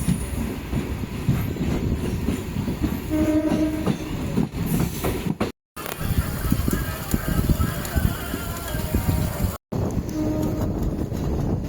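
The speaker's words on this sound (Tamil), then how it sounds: "நான் சொன்ன அந்த இம்பார்ட்டன்ட் வண்டி வந்தாங்க." The Rameswaram–Bhubaneswar Express, hauled by a Visakhapatnam-based WAP-7 locomotive, rolls past a halted MEMU passenger train. A loud, continuous rumble and wheel clatter runs close by for the whole stretch, broken by two brief dropouts.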